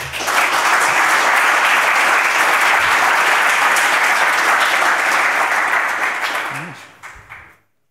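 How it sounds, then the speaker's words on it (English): Conference audience applauding after a Drupal session talk on mapping and geolocation, a loud, full round of crowd clapping that holds steady for about six seconds and then tapers off into quiet. "So please give him a round of applause."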